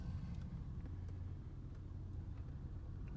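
A 1986 Oldsmobile Cutlass Supreme rolls forward in the countryside, giving a steady low engine rumble and road noise that stays constant and fairly close throughout, with no talking.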